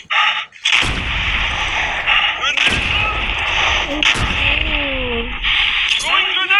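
Loud, booming gunfire from a modern gun mod weapon in a video game, several heavy shots with long decaying tails and whooshing effects between them.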